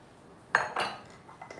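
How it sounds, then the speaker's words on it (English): A whisk clinks against a mixing bowl as flour, baking powder, baking soda and salt are worked into cake batter, giving a few sharp metallic taps in quick succession, close and alone. "So we're just going to whisk this in little by little until it feels well incorporated"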